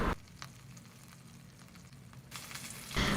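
Mustard seeds, lentils, peanuts and curry leaves frying in hot oil for semiya upma, a steady low sizzle with faint crackles and no voices.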